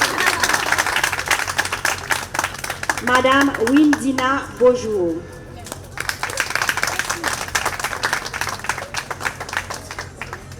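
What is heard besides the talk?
audience applauding at a graduation ceremony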